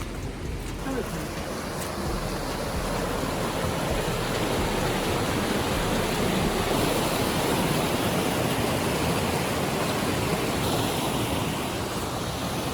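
Waterfall with a small pool of water below it at Sarıçam, a steady broadband rush of falling and flowing water that stays loud and constant throughout, with no clear voices over it.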